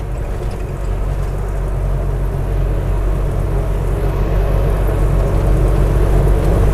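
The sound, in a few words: car with Fitech fuel injection climbing uphill in fourth gear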